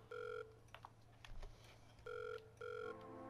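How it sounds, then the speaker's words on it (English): A telephone in the video game Surgeon Simulator rings in two-part electronic bursts, a pair of trills early, then another pair after a pause, with soft game clatter between them. "And that phone's actually really pissing me off now."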